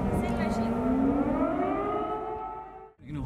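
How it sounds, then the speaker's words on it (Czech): An air raid siren wails in Poltava, one loud, sustained rising tone that drifts slowly upward in pitch and fades toward the end, then a brief cut and a restart. "Během setkání se rozezněly sirény"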